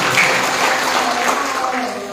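A congregation in a church service applauds, a short burst of dense clapping at moderate distance with voices mixed in.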